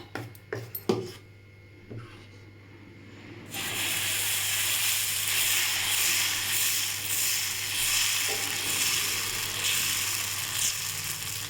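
Podi dosa batter is poured onto a hot griddle and breaks into a loud, steady, hissing sizzle that runs for several seconds, after a few knocks and clatters at the start and with no talk.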